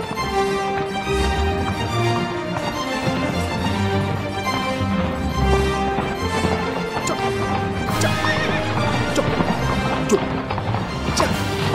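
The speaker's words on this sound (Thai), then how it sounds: "ดูสิเจ้าหมหมุดและเจ้าชูกำลังขับม้าเข้ามาแล้ว" Horses driven forward in a scene set in historical Ayutthaya: steady clip-clopping hooves and loud neighs and whinnies fill the whole stretch, dense and close with no voices over them.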